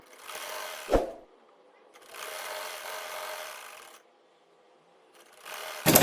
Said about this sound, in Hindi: अब सबसे पहले हम बाहर वाली सिलाई लगा लेंगे